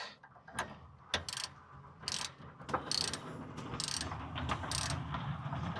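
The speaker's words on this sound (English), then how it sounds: "I'm tightening it all down." A hand ratchet tightens a car's tie rod during a repair in Guanajuato, Mexico, rapid bursts of clicking pawl with a few sharp metallic knocks, close and irregular in rhythm, no talking.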